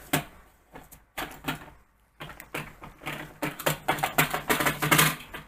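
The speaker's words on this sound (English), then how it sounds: "Next, I'm going to peel off my tape." Makeup tape peeled off skin after applying sharp blue winged eyeliner, heard as a run of close, crisp tearing and crackling bursts, sparse at first and then quickening into rapid strips of peeling.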